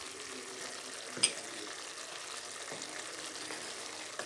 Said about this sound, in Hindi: इस मसालों के साथ हम इसे भूनेंगे।